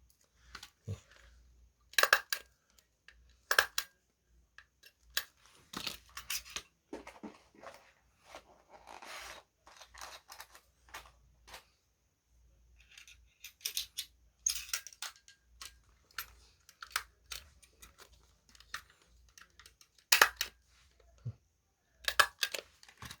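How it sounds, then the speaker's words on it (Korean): Coins being handled and slipped into paper coin holders, including Korean one-won pieces from the 1970s and 1980s, heard as sparse close clicks, taps and rustles in irregular clusters over quiet room tone. "동전들을 예, 홀더 작업을 하고 있습니다."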